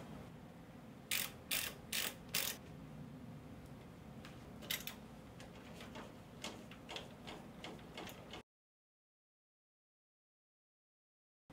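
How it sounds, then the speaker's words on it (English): Screws being backed out of the fuser assembly of a Lexmark T630 laser printer, a run of close, sharp metallic ticks and ratcheting clicks from a driver for about eight seconds, then silence. "We will remove the two screws on each side of the fuser."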